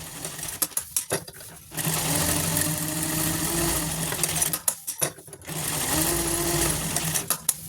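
A sewing machine stitches straight seams on a purse made from blouse fabric, running in two loud, steady bursts with short clattering stops and starts between them.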